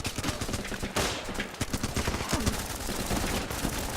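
Shotgun fire in the video game Running with Rifles, a fast barrage of loud sharp blasts and rattling shots crowding together for several seconds without pause.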